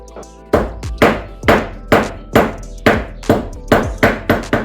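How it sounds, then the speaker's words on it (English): A hammer pounds staples into the wood of a birdhouse with about ten sharp, evenly spaced blows, each a loud close crack with a brief ringing tail, in a steady rhythm. "we're gonna smash them in with a hammer"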